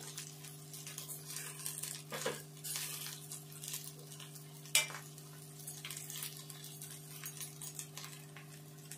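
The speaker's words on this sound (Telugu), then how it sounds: "ఇట్లా వేగాలి." Onion curry with dried chili powder fries and is stirred in a pan for Telangana-style onion pulusu, giving a soft sizzle under a steady hum, with occasional spatula scrapes and one sharp clink, faint overall and without speech.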